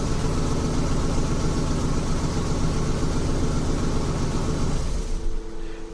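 A Ford Super Duty truck engine, a 2008-2010 F-250/350/450, idles with a steady low rumble for about five seconds, then stalls and winds down abruptly after the ignition wire is pulled, leaving a quieter residual hum.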